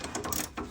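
A ratchet wrench tightens bolts on an Air Lift 5000 airbag kit fitted to a 2010 Ram 3500 dually, a quick run of close, quiet clicking bursts over less than a second.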